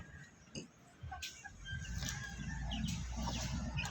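Native chickens cluck softly under a shelter of banana leaves, with scattered low calls and rustling, mostly close and moderately quiet.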